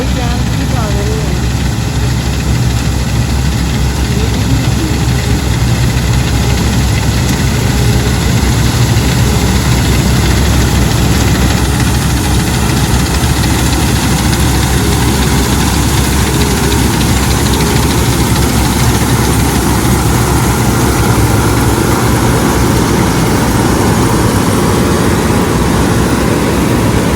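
A tractor engine runs steadily for wheat harvesting, a loud, continuous low drone with rattling vibration that holds throughout, while voices talk faintly beneath it.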